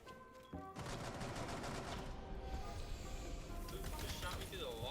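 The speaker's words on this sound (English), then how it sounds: "Who just shot me through the wall?" Rapid gunfire from the video game Rainbow Six Siege, dense sustained bursts of shots close by and loud, with brief game sound effects layered over them.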